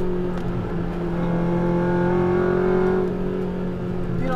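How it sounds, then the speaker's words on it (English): An EK4 Honda Civic race car on a track day circuit, its engine droning loudly and steadily with harmonic tones rising and falling slightly as it changes direction, close and continuous with no talk. "Car changes direction nice and tightly."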